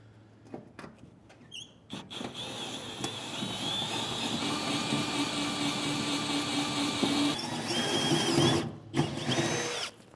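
A power drill with a step bit bores through a steel hitch bracket under a 2014 Ford F-250, a sustained whining grind of about six seconds after a few short clicks, loud and close.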